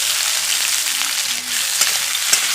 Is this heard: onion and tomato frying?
yes